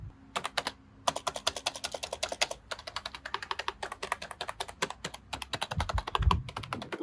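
Rapid clicky keystrokes on an RGB computer keyboard, a steady close run of sharp taps with brief pauses, ending in a slightly heavier thud.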